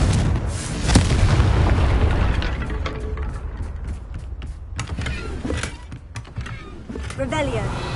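A Confringo fire spell blast in Hogwarts Legacy, a loud booming burst followed by crackling and rumbling, with a voice speaking over it.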